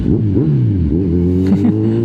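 A Kawasaki Z1000 inline-four 1000cc motorcycle fitted with a new exhaust revs up loud and close, the engine note climbing and falling through several throttle blips over a steady rumbling idle.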